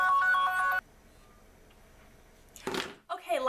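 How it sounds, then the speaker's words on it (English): A telephone ringtone chimes in a bright, repeating melodic pattern for under a second, then cuts off into near silence before a person starts talking. "hold on, phone call."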